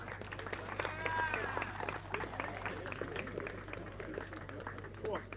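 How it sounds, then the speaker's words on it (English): Crowd applause at an outdoor racing event, the Big Freeze 12 at The Ville, sustained and moderately loud with voices mixed in, the clapping thinning slightly toward the end. "Round of applause, Community Pete"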